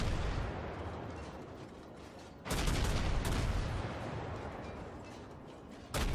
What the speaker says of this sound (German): jetzt schieße ich mich gerade ganz gut ein